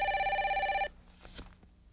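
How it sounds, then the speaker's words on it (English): A telephone rings with a steady warbling electronic trill for nearly a second, then cuts off, leaving faint clicks and handling sounds. "That's my holster phone."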